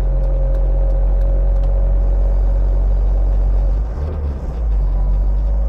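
A 1979 Mercedes W123 240D diesel car engine drones low and steady while driving, a heavy, truck-like rumble with a constant whine above it and a brief deeper swell toward the end.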